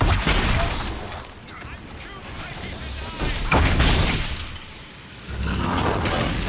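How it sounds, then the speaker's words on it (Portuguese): Loud, dense combat in the video game Dragon Age: Inquisition with rapid bursts of gunfire and booming impacts, overlapping continuously with no clear pause. "Tudo que o Varric faz agora dá dois tiros."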